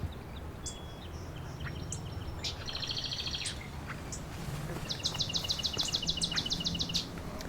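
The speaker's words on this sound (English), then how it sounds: "It was a nice loud marsh wren." A marsh wren sings loudly in a marsh, repeated rapid buzzy trills and chattering rattles in bursts, with other faint bird calls and steady low background noise.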